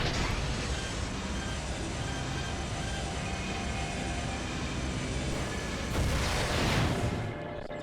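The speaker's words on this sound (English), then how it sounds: "we finally burst it through after spending 36 missiles" Missile blasts against a bony barrier in Metroid Prime 3, a dense continuous roar of game explosions with a heavier burst near the end, loud and steady throughout.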